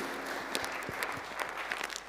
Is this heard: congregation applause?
yes